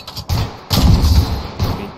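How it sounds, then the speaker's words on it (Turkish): Gunfire from a video-game shooter: loud, dense sprays of shots in several rapid bursts with short gaps between them, close up and with no talking. "Atlarken taradım. Merminin yarısı boşa gitti."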